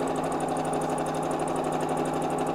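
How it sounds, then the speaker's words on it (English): A sewing machine stitches chenille fabric in a steady, continuous whir with fast regular needle pulses, close and loud, running unbroken without any talk. "Line up the foot with the row of stitching that I've already made and just sew straight down."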